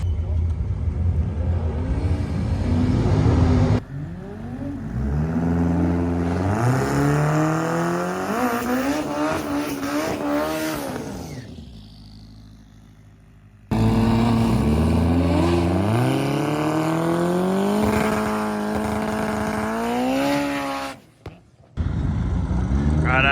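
A 1000hp Honda K24-powered drag car launching and accelerating down the strip, a loud engine note climbing through rising gear pulls with brief shifts, a pause, then another hard run, all close and roaring.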